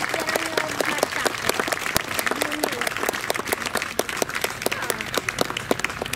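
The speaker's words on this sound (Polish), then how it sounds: "Brawa dla nich." An audience applauds the co-organisers of a reenactment of the 1920 Defence of Płock, steady dense clapping throughout, with a voice speaking faintly beneath.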